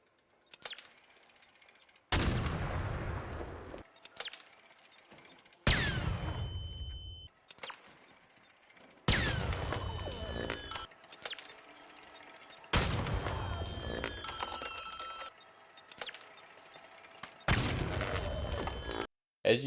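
Explosions with blast damage in a shooter video game, a sequence of sharp blasts roughly every two seconds, each followed by a brief rumbling decay against quieter game sounds.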